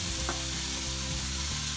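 Small wet shrimp are sautéed in oil with onion and masala in a pan, giving a steady, close sizzle with faint stirring scrapes and no talk.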